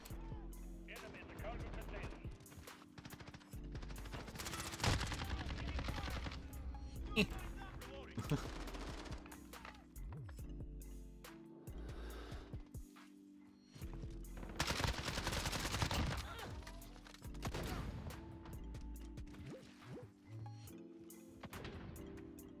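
Gunfire from World War II–era Vanguard guns such as the MP40 submachine gun in a shooter video game, repeated automatic bursts and single shots throughout, mixed with game sounds and a player talking.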